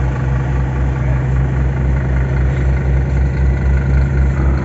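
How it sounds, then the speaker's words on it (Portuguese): A car engine runs on a ramp with a steady, loud, low rumble and a fairly even idle-like drone, with little sign of rising revs. "Nós vamos acelerar."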